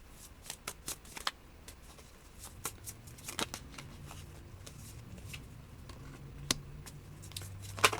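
A deck of cards shuffled by hand, with repeated riffling flutters and soft snaps spread over several seconds, close and fairly quiet over a low background rumble.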